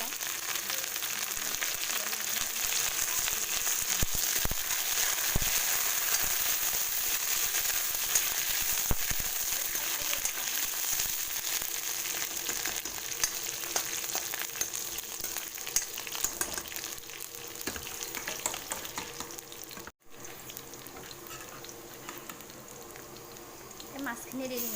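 Curry leaves fry in hot oil for a pumpkin and boral fish dish, a continuous close sizzle with crackling bursts and a brief break near the end.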